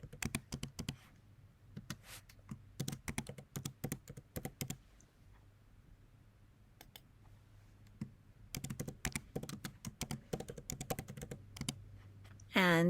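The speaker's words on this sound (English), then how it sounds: "And type in the text box your message." Keys on a computer keyboard clatter in quick bursts of typing, with a pause in the middle, while a message is entered into a text box in the Canvas course system; the clicking is fairly close and moderately loud.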